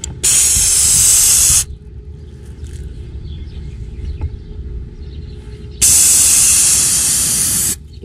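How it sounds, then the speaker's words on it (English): Two long, loud hissing bursts from an aerosol spray can, each lasting under two seconds, separated by a stretch of quiet room noise. "spray that in there at a 45 degree angle for 5 to 10"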